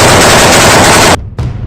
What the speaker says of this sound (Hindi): कादिरोव के कई लड़ाके एक कमरे में खड़े होकर जोरदार फायरिंग करते नजर आ रहे हैं